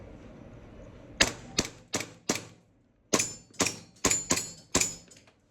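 Airsoft Hi-Capa 5.1 gas blowback pistol firing test shots: eight sharp, loud cracks, four in a quick group then a short pause and four more, each with a brief mechanical clack of the slide.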